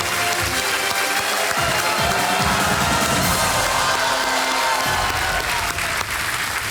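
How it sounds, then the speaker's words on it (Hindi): Studio audience at a quiz show applauds contestants being welcomed, a loud, steady wash of clapping with some cheering and whoops throughout, dense and continuous with no pauses. "तालियों के साथ इनका स्वागत देवी सब में।"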